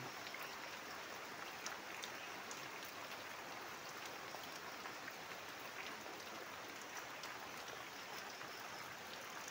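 Soft, steady rain falling with a faint, even patter and occasional light drips, distant and quiet throughout.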